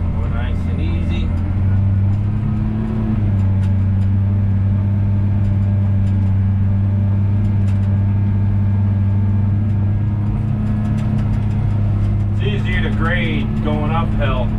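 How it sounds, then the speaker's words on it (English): Low, steady engine hum of a van crawling slowly uphill on loose, sandy ground, a constant droning tone throughout, with someone talking briefly at the start and again near the end. "we won't get much traction up there in the van, that's for sure"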